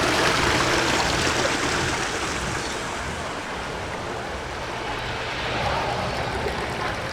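Water rushes steadily through a gem-mining sluice at Silver Dollar City in the Ozarks, a continuous close splashing flow with a faint swell near the end.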